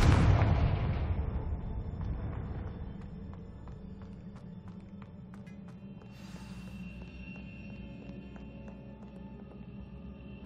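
A Confringo explosion spell goes off in Hogwarts Legacy: a loud, close blast at the start that rumbles and fades over several seconds, followed by quiet, ringing game ambience.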